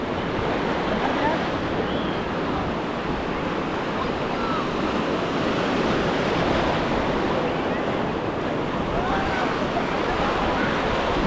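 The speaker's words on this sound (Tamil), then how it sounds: "எவ்வளோ ஜாலியாக இருக்குது பார்த்தா கடல்." Sea waves surge steadily onto the beach at Dhanushkodi near Rameshwaram, a continuous loud wash of surf mixed with wind buffeting the microphone throughout.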